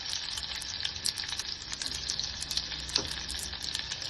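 Onions sizzling in hot oil with garlic and curry leaves, a close, continuous crackle and spit with scattered sharper pops throughout.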